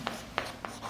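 Several short, scratchy strokes of chalk or marker on a classroom board as a triangle definition is written during a maths lesson, three quick separate scrapes close by with no speech.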